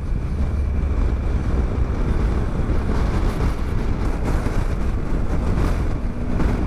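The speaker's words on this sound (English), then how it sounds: "Wow, it's windy." Strong wind roars over the microphone of a rider on a 2018 Triumph Tiger 1200 along Donegal's Wild Atlantic Way, a dense, continuous buffeting rumble that stays loud and unbroken throughout.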